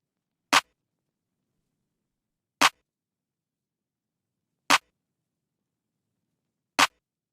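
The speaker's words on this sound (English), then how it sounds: "I have a simple clap and then a clap snare layered underneath it." A trap-beat drum sound made of a simple clap with a quieter clap snare layered underneath strikes four times at an even, slow interval, each hit sharp and bright against silence.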